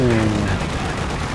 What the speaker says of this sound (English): firing off the airburst shells back here